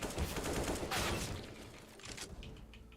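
Gunfire in a first-person shooter video game, a brief burst of rapid shots up front that fades into quieter game noise, faint and without talking.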